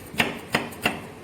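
A knife chops Bali spice stalks on a board while preparing ayam betutu: three crisp, evenly spaced strikes, close and clear, with quiet between them.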